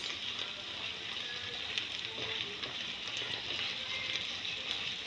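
Beef frying in a pan for samosa filling, giving a steady, even sizzle and crackle throughout with small pops, moderately close and unbroken by talk.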